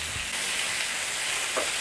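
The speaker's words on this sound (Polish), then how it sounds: "Podsmażamy dość szybko. Chcemy wyciągnąć piękny kolor z tej wołowiny." Beef rolls fry in a pan with a dense, continuous sizzle and occasional stirring scrapes, loud and close throughout with no talk.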